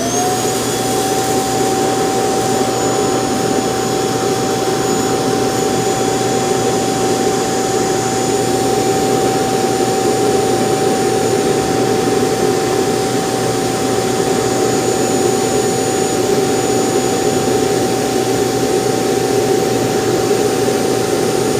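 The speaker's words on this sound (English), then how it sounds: "now it's going to do an auto empty of the dustbin" A Eufy X8 Pro self-empty station runs its auto-empty cycle, pulling debris from the robot vacuum's dustbin with a loud, steady, close suction roar and a constant high whine, with no pauses.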